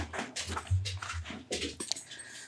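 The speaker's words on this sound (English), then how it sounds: "My dog is moving around so much today, I don't know where she wants to go." A dog moves around a room indoors, with soft pattering and shuffling plus a faint whimper, close by and moderately loud, with no talk.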